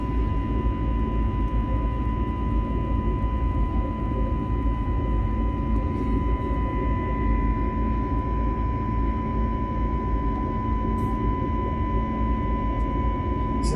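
Airbus A321neo CFM LEAP turbofan engine sound from a flight simulator soundpack: a steady, continuous drone with a sustained tonal whine over broad rumble, unchanging and alone.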